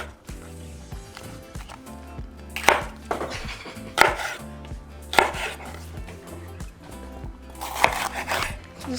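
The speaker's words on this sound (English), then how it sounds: "so now for our poblanos, we're going to cut them into strips" A knife cuts poblano peppers into strips on a board, with a few sharp, evenly spaced chopping knocks over a faint background hum.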